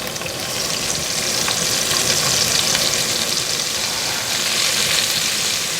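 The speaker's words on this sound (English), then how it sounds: "now to my hot pan, I'm going to add my onion" Onion dropped into a hot pan gives a loud, steady, close sizzle that holds evenly for several seconds with no talking.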